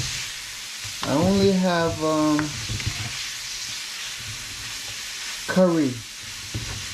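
Minced meat with onions and garlic sizzles steadily in a pan, a constant broadband hiss running under two short bursts of a man's speech.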